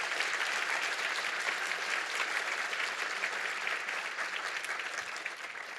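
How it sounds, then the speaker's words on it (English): A conference plenary audience gives a panel a sustained round of applause, a thick, even wash of many hands clapping that continues for nearly six seconds and eases off slightly toward the close. "Can we please give a round of applause to our panel for an excellent conversation?"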